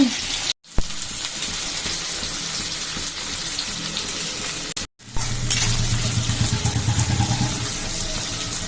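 Onions, cloves and cumin frying in about four tablespoons of oil for a home-cooked Telugu curry, a steady close sizzle with two brief dropouts, growing louder and denser toward the end.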